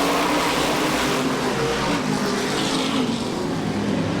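Modified race cars in a Modified Racing Series consolation race at Star Speedway, a loud, sustained engine roar from several cars circling the track, steady and dense throughout with no commentary audible.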